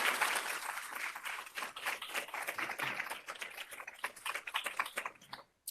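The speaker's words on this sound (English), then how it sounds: "So big round of applause for everyone." A room of attendees at a March of Dimes event breaks into steady, fairly distant applause, a dense patter of clapping that holds for several seconds before stopping abruptly.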